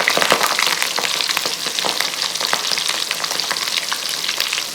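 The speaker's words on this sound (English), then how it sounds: "fold it in half, drop it in the oil." Folded tortillas, filled with crispy potato and kale, fry in hot oil with a bright, close crackling sizzle full of sharp pops and spits, steady and loud throughout with no talking.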